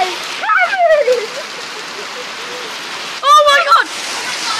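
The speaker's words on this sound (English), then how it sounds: "It was right hailing on my window!" Hail pelts a car and a window in a steady, dense hiss of impacts, while excited voices exclaim loudly over it.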